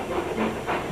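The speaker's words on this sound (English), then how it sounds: "James and Edward puffed into the yard." Steam locomotives puff into a railway yard, giving a short, soft hiss of escaping steam with faint rhythmic chuffing in the background.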